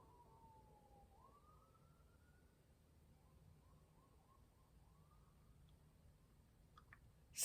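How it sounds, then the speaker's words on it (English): A faint siren wails in the distance, rising and warbling in a few sweeping cycles over a quiet background. "that siren, sorry"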